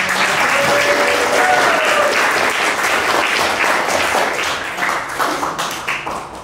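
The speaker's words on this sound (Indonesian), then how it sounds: "tepuk tangan untuk teman-teman" Steady applause from a classroom full of people, dense and sustained clapping that slowly thins out toward the end.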